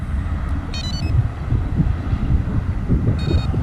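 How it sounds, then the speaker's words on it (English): Two short bursts of high electronic beeps from XP ORX metal detector headphones pairing, about two seconds apart, sound faintly over low rumbling wind noise. "did you hear the beep?"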